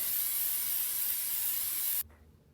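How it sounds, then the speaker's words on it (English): Baker's Joy baking spray sprayed into a small bundt pan, a steady close hiss for about two seconds that cuts off abruptly, followed by quiet room noise. "I'm just going to spray it with some Baker's Joy"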